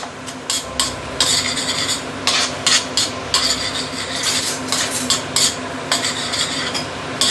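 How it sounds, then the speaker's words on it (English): Dried shrimp frying in a pan while being stirred, with scraping utensil strokes against the metal in an irregular rhythm over a constant close sizzle; no talking. "You need to keep on stirring like this."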